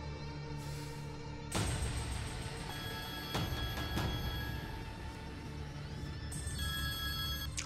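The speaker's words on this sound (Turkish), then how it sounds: "Aç lan şu telefonu, aç, aç." A telephone rings indoors in a tense drama scene, a steady electronic ringtone repeating at a moderate level throughout, with a few sharp clicks and knocks over it.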